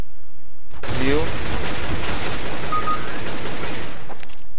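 Sustained bursts of rapid video game gunfire from Counter-Strike: Global Offensive roar loudly for several seconds, dense and continuous, then cut off abruptly.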